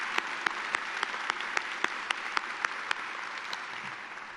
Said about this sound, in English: So let's give it a hand.